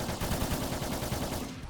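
Rapid automatic gunfire from the PlayStation 2 game Rise to Honor, a dense continuous stream of quick shots at moderate level with no talking.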